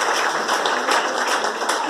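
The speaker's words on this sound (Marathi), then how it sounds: "या विद्यार्थ्यांसाठी आवश्यक टाळ्या वाजवाव्यात" Steady audience applause at a state-level science competition prize distribution, many hands clapping in a dense, continuous wash that holds evenly for the full stretch.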